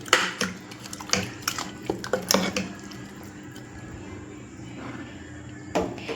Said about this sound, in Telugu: 1 స్పూన్ కారం వేసుకోవాలి, 1 స్పూన్ పసుపు వేసుకోవాలి. ఇవన్నీ వేసాను కదా, మంచిగా కలుపుకోవాలి.